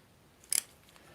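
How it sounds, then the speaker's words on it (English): Surgical scissors snip a suture flush in one quick, faint, close triple click in an otherwise quiet room. "Cut it flush, scissors go in the palm"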